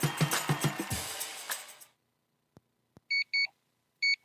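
Alarm clock snooze alarm: after a burst of busy noise fades to silence, a few faint clicks give way to three loud, close electronic beeps, the last one set apart after a short pause.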